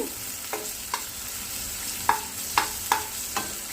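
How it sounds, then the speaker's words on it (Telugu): Green chilies with salt fry in a pan under a continuous soft sizzle, while a utensil knocks against the pan about six times, the later taps sharper and closer together. "నేను పచ్చిమిర్చి వేగడం కోసమని కొంచెం సాల్ట్ వేస్తున్నాను ఇది వేసుకుంటే తొందరగా వేగిపోతాయి పచ్చిమిర్చి"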